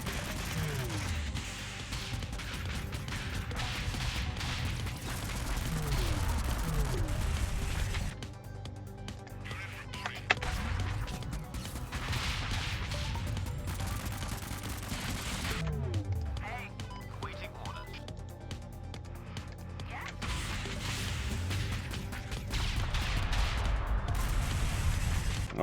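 Cannon and gunfire crash and rattle in the vehicle combat game Convoy, sustained and dense with repeated bursts under a constant roar, with a person talking over it.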